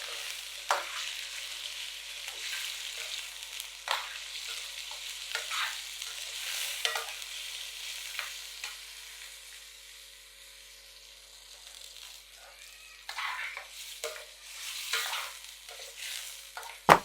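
Mutton pieces fry and get stirred with yogurt in a pot while making white mutton karahi, a soft sizzle underneath with repeated scraping stirs at irregular intervals, close and fairly quiet.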